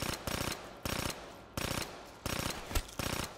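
Rapid automatic gunfire in Black Ops 3 zombies, fired in five short, evenly spaced bursts of tightly packed shots, loud and close, with a brief thud between the last bursts.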